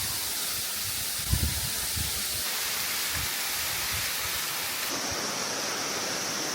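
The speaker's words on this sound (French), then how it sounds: "Adieu ma cascade." Waterfall near Kuranda, Australia, giving a steady, full rushing hiss of falling water that holds constant throughout, with a few low rumbles and bumps near the start.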